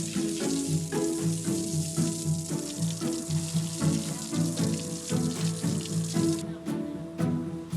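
Water poured into a cooking pot while boiling pork, with salt and seasoning added: a steady, continuous splashing and sizzling wash of sound that runs throughout at moderate volume, with no talking.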